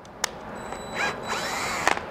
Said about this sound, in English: We're gonna chuck it up in the cordless drill and tap these holes.